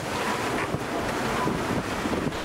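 Rough sea surf and strong wind roar continuously around a sailboat on a passage from Costa Rica to Ecuador, with heavy wind buffeting on the microphone and no voices.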